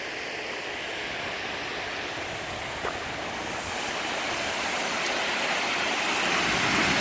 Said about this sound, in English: And there's the spillway.